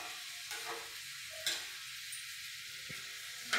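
Okra fries in a pan with a continuous bright sizzle, close and fairly loud, broken by a few louder crackles and spatter pops.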